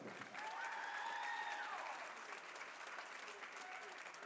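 A gym crowd at a Brevard College men's basketball senior recognition applauds, with sustained, even clapping from many hands heard from a distance and fairly quiet.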